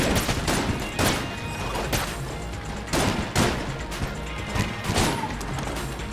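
Dense gunfire from the twin-stick shooter Enter the Gungeon, rapid bursts of shots with sharp impacts and crashes every second or so, loud and continuous across the whole stretch.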